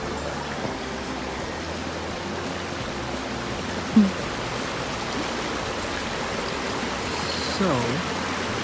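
A creek flows steadily in the woods as a broad, constant rush of water, with a single brief knock partway through and a faint rustle near the end.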